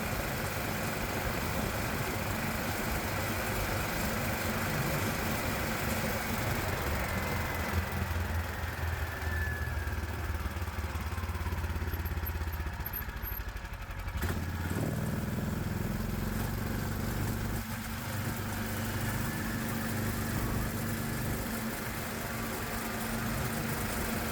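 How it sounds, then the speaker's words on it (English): A Predator 420 engine swapped into a Hisun Strike 4x4 utility vehicle runs steadily and loud, its pitch rising and falling as it surges, with a brief clunk partway through. "Right away I noticed the engine is surging."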